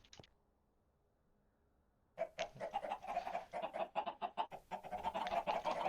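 Chickens cluck and squawk in a Minecraft chicken farm, a dense run of short game calls starting after a quiet opening and continuing loud and steady to the end.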